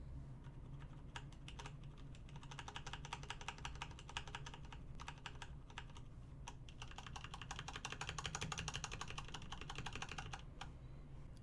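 Rapid typing on a keyboard whose keys are fitted with O-rings, a steady clatter of soft, damped keystrokes in quick bursts with short pauses, close and alone.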